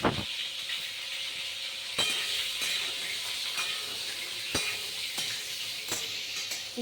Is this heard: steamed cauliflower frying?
yes